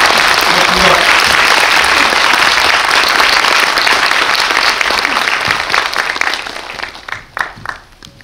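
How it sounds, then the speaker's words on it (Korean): Festival audience at the Busan International Film Festival applauding loudly and steadily with dense clapping, tapering off toward the end. "박수 한번 더 크게 쳐주십시오."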